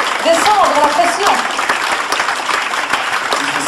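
An audience at a film festival award ceremony claps for the winners, a dense continuous round of applause, with a voice briefly speaking over the start.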